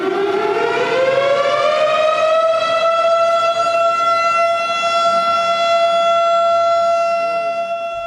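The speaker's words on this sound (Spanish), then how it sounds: "¿Oyes esa sirena aullante?" A loud, sustained wailing siren marking the start of Shabbat rises in pitch and then holds a steady howling tone, with rich harmonics and no other sound over it.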